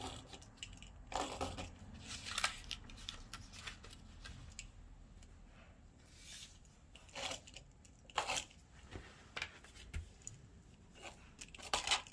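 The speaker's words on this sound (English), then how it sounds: "Measure and cut the paper for the covering of the base." Paper being cut for the covering of a round gift box base, heard as a series of short, crisp snips and rustles spaced irregularly, fairly close and quiet with no talking.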